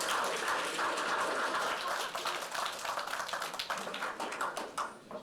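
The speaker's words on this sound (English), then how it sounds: "a big round of applause for these wonderful, wonderful kids for doing such an amazing job" Applause for children performing at a Chinese New Year celebration, a steady mass of hand claps that thins into scattered claps toward the end, with faint voices underneath.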